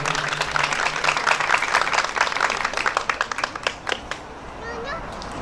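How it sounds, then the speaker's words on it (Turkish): Applause from an audience at a henna night, dense clapping for several seconds that thins out and fades toward the end, with music faintly underneath. "çiftlerime güzel bir alkışlar istiyorum"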